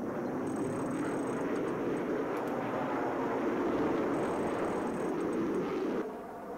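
EMP drone flying in Battlefield 4, a steady droning aircraft-like engine hum that holds at an even, fairly loud level before dropping off near the end.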